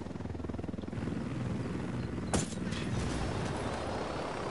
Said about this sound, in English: The chopper did not land on me.